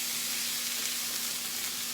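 Onion, pepper and chopped garlic sizzle steadily in a pan, a constant broadband hiss with a faint hum underneath, no talk.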